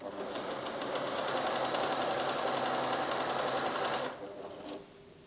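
A PFAFF creative 1471 sewing machine from 1987 runs steadily with its dual feed engaged, a loud continuous whirring stitch drone for about four seconds before slowing and stopping.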